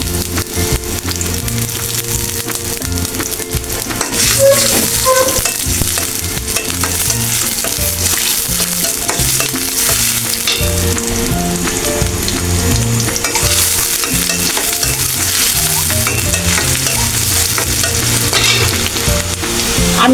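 Onion and green chilli frying in a pan of oil give a loud, dense, continuous sizzle with stirring scrapes; steady tonal layers run underneath throughout.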